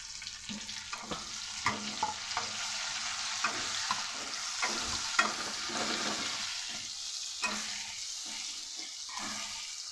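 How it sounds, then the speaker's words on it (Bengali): Chopped onion and four bay leaves frying in oil left over from cooking chicken, a steady sizzle broken by repeated scrapes and clinks of stirring, close and moderately quiet, without talking. "এই তেলের মধ্যেই আমি চারটে তেজপাতা দিয়ে দিলাম আর তেজপাতার মধ্যে দিয়ে দেব কুচিয়ে রাখা পেঁয়াজ"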